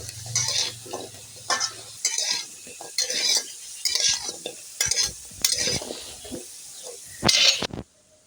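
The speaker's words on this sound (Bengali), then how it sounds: "আলুতে হলুদের গুঁড়ো আর লবণ দিয়ে মাখিয়ে এটা একটু ফ্রাই করে নিবে" Potatoes coated in turmeric and salt fry in a pan for biryani, with close, repeated stirring scrapes in rhythmic bursts over a steady sizzle and no talk.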